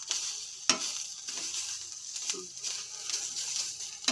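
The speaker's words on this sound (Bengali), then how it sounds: "এই গাজরটাকে এখন ভাজছি ঘি দিয়ে" Grated carrot fries in ghee in a wok for carrot halwa, giving a soft continuous sizzle broken by scraping stirs of a spatula, close and moderately loud.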